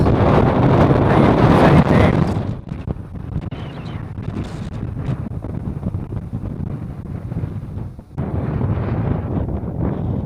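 Strong squally wind blasts across a sailboat on the Pacific coast, pushing it along at 6 to 7 knots, roaring loudly into the microphone, easing slightly midway, then surging hard again, with water noise underneath and no talking.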